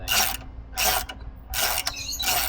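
A 3/4 ratchet tightening a bolt while a motorcycle saddlebag is installed, giving three loud bursts of fast ratcheting clicks separated by brief pauses, close up with no talk.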